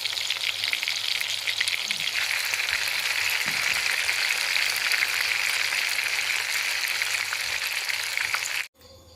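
Wrapped fermented beef fries in hot oil at night, giving a steady, dense sizzle and crackle that runs unbroken until it cuts off abruptly near the end.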